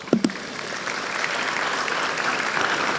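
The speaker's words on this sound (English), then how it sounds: "I thought you'd clap for us." Audience applause at a university matriculation ceremony, a large crowd clapping in a broad, steady wash that builds after a couple of sharp initial claps and continues evenly throughout.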